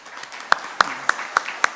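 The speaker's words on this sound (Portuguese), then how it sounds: "Uma salva de palmas ao nosso suplente." A few sparse hand claps at a city council extraordinary session in honour of a substitute councillor, five or six separate claps spaced roughly a third of a second apart, fairly close and thin rather than a full crowd.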